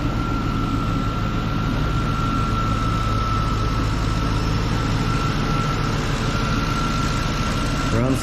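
A Lincoln Town Car engine idles in winter with a steady, loud, low rumble and a constant hum that stays unchanged throughout.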